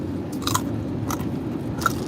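Crisp bites into a baby carrot give two or three sharp crunches about a second apart, close and fairly quiet over a steady low hum of a moving car.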